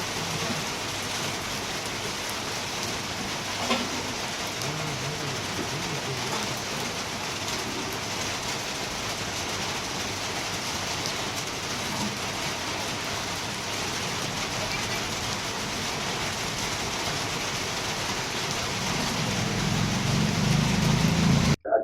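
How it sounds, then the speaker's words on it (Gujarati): Light morning drizzle falls over a city street, a steady soft hiss of rain with faint traffic beneath, growing a little heavier toward the end. "સવારના સમયે છાટા સ્વરૂપે વરસાદ વરસ્યો હતો"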